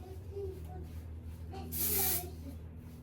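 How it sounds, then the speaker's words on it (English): A short close burst of hairspray hissing onto hair for about half a second, loud against a quiet room with faint background hum. "I'm just gonna use some hairspray on my hair"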